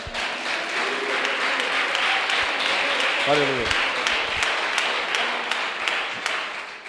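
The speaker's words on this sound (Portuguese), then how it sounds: "Dá uma salva de palmas para Jesus" A church audience claps in a sustained, dense burst of applause for several seconds, with a brief spoken exclamation rising over the clapping midway.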